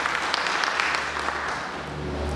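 A church congregation applauds steadily in a continuous wash of clapping, fairly close and full, with faint background voices mixed in and no clear pauses.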